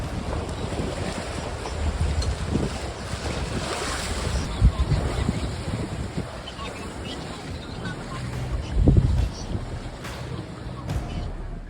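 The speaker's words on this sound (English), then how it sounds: "the water on either side of us was very angry, with huge breaking waves and extremely turbulent water" Wind roars and turbulent water surges around a sailboat crossing an inlet of huge breaking waves, with a steady rushing wash and heavier swells thumping past, loud and close, with some wind noise on the microphone.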